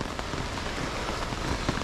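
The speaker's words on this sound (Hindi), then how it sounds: "और भयंकर वाली बारिश लगी हुई है" Heavy rain pours down in a steady, dense downpour, a continuous close hiss of drops pattering on surfaces with no voices.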